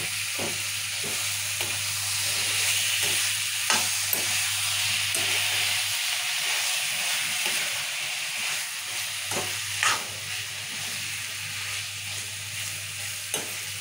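Tomatoes frying in a pan for a simple tomato curry, a loud, steady sizzle with repeated scraping stir strokes throughout over a constant low hum.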